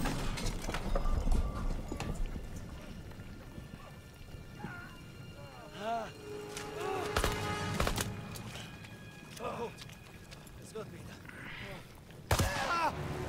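Cavalry horses from the World War II shooter Call of Duty WWII, with hooves clopping in busy rhythm, a few whinnies and neighs, and other battle sounds mixed in.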